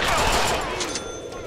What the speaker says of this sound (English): Now I have a machine gun!